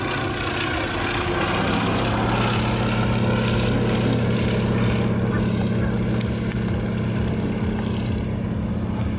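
A Fairey Swordfish propeller biplane makes a final pass at the Abingdon Air Show 2024, its engine giving a loud, steady, continuous drone throughout.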